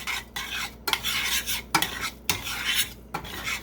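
Bacon chunks being stirred into creamy chicken orzo in a pot, a close, wet squelching swirl broken by four sharp clinks of the spoon against the pot's rim, with no voices.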